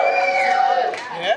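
A comedy club audience cheers and whoops in a steady, loud burst of crowd noise, with voices swelling and shifting throughout.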